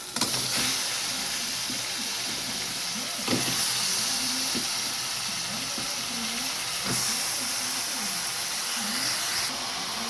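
Mutton fries with onion and tomato in a pan, giving a steady, close hiss and sizzle with occasional stirring scrapes throughout.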